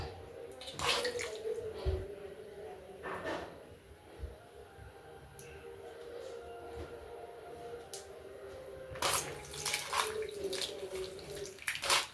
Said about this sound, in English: I'm going to clean these omenas with warm water.